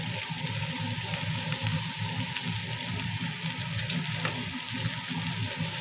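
Onions sizzling and frying in a pan with salt and turmeric, a steady close crackle and hiss continuing evenly throughout.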